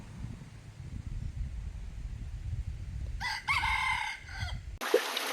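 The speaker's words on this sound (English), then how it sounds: "Sunset rooster, you no need to do that." A rooster crows at sunset in rural Thailand, a loud near cock-a-doodle-doo in the final seconds rising over a low rumble of wind and ambient noise.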